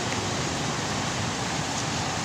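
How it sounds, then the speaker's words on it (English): An electric fan blows hard outdoors, a steady broadband whooshing rush that stays even and fairly loud throughout with no other sounds. "In order to do these videos outdoors like this, I gotta have the fan blaring."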